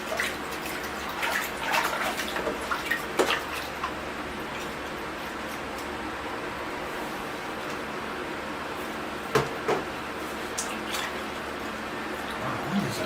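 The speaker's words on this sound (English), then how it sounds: "So we're going to wash the roots off, get rid of all that old soil." Running water rinsing old soil from the roots of a potted ficus bonsai, a steady soft wash with occasional small splashes, close by and moderately quiet throughout.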